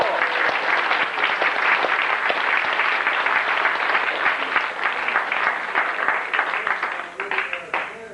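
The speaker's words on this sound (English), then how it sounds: "let's give you a round of applause" Guests at a wedding reception break into loud, sustained clapping that holds steady before tapering off near the end, with some voices mixed in.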